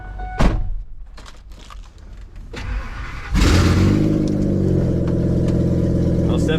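A Ford Excursion's 6.8L V10 with no exhaust: a few clunks and a short crank, then the engine catches and settles into a loud, raw, blaring idle that carries on steadily.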